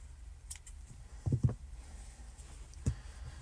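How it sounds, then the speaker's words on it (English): Scissors trim off crochet yarn from a granny square in a few soft, quiet snips: one near the start, a close pair, then a single cut later, against a low background hum. "Then I'm going to trim it off."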